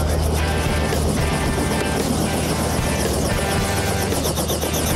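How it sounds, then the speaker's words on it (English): Helicopter flying over Panama City on the Florida Panhandle, heard from inside the cabin as a loud continuous engine roar with a rhythmic rotor thump, no talking. "Flying in a helicopter in Panama City, I can't think of a better way to see this entire area."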